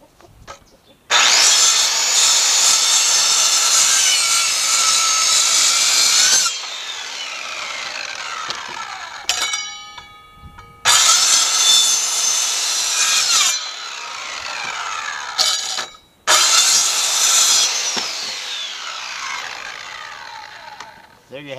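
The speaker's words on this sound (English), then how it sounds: "When you cut the 4x4, if you mark three sides, because your blade will not go all the way through the 4x4" A power saw bites repeatedly into a 4x4 wood post, with long loud cutting passes broken by short pauses and clunks as the piece is turned between cuts on each side.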